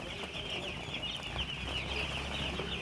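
Chickens cluck and chatter in a poultry farm shed, a faint steady flock murmur with a high constant hiss or hum running underneath.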